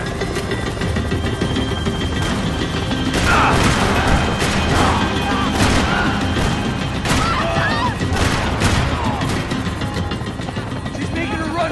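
Rifle shots from a Max Payne 3 firefight ring out as sharp cracks over a constant helicopter and engine roar, with shouting voices mixed in.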